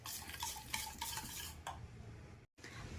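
Shrikhand whisked with saffron-steeped milk: a busy, continuous scraping and stirring of thick curd against a bowl, with fast rhythmic strokes up front easing into steadier mixing and a brief dropout near the end.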